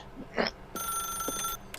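A telephone rings in the video game The Stanley Parable, a bright electronic bell trill lasting almost a second, clear and fairly close, after a short vocal sound and followed by a faint click.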